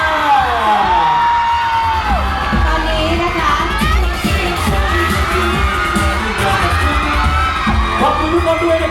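A crowd at a Thai magazine press event whoops, yells and cheers loudly and continuously, with excited voices rising and falling over a dense background roar.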